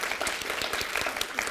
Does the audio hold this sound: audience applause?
yes